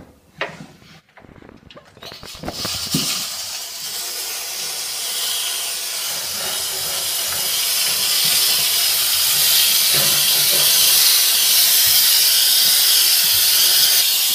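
A HomeRight SteamMachine Plus steam cleaner hisses steadily on a dirty oven, a continuous loud rush of steam that builds after a few brief knocks and scrapes at the start.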